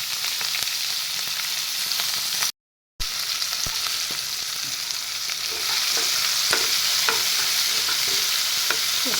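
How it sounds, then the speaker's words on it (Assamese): Sliced onions and green chillies frying in oil for a brinjal curry, a dense steady sizzle with occasional spoon clicks, a brief silent gap early on, then the frying continuing louder and hissier. "সেই তেলখিনিতে মই পিঁয়াজখিনি আৰু জলকীয়া কেইটা দি লওঁ"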